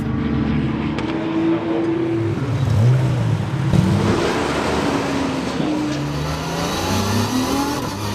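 Race cars at a Roscar event on the Anneau du Rhin circuit roll through the pit lane, engines droning and shifting pitch as they pass in a continuous loud stream.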